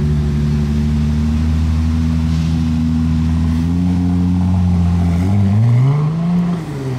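A hybrid V6 supercar engine revs steadily and loudly at close range, its tone climbing toward the end before dropping away. No one talks over it.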